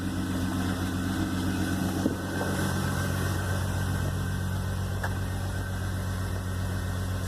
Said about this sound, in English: Idle's a little rough.